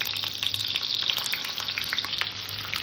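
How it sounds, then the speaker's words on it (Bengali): Pieces of pointed gourd frying in hot oil in a kadai, a steady, fairly soft sizzle with crackly spatters and occasional stirring, with no talking. "আমার তেল গরম হয়ে গেছে সর্বপ্রথমে আমি পটলগুলোকে"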